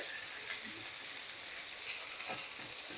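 Pumpkin and eggplant sizzle in a frying pan with a steady, soft hiss running the whole time, low and close with a slight swell near the end.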